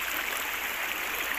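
Flood water rushing steadily, a continuous broadband roar like a fast stream, even and unbroken throughout, heard alone without voices.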